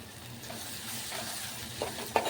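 Onions with turmeric and chili powder frying in oil in a home kitchen, a soft steady sizzle with light stirring scrapes and a couple of louder clinks near the end.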